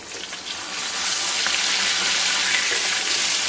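Fish sizzles in a frying pan in a home kitchen, a dense, steady crackling hiss heard close and loud, swelling slightly in the first second and then holding even.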